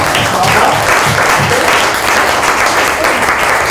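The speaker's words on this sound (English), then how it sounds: "Can we applaud that, please?" Loud, dense applause from an audience, a continuous roar of clapping that stays steady throughout.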